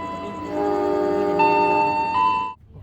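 The Airlangga passenger train sounds a loud, sustained multi-tone horn blast for about two seconds as it prepares to depart the station, then cuts off abruptly into low background noise.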